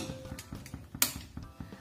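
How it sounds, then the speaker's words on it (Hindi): Lid being fitted onto a pressure cooker holding rice and water: a quick run of faint, close metallic clicks and scrapes, with one sharper clink in the middle. "अभी मैं कुकर को सेट कर दूंगी।"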